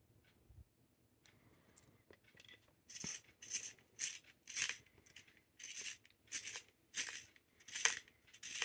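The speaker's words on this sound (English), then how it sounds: "It almost feels like this pencil sharpens better." A wooden pencil grinds in a Pen+Gear sharpener with a steady run of rasping, scraping strokes, close and fairly loud, after a few quiet clicks and handling noises.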